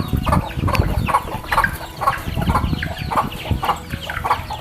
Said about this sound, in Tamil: கோழி பார்த்திங்கன்னா ஒரு 50லேருந்து 60 கோழி குஞ்சு இருக்குது சார்.